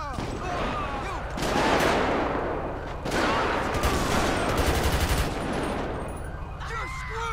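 Rifle gunfire in GTA V with the LSPDFR police mod: dense, rapid bursts of shots come in waves across the whole stretch, loud and close, with brief gaps between volleys and a voice speaking faintly underneath.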